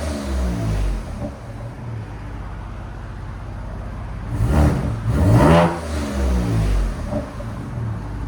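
A 2024 Ford Ranger Raptor with a 3.0L twin-turbo V6 and an aftermarket exhaust idles with a low rumble nearby, then revs hard twice around the middle before settling back to idle.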